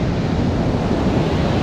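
Ocean waves break at Marianne River beach in Trinidad, a loud, dense, continuous surf roar with wind noise on the microphone and no voices.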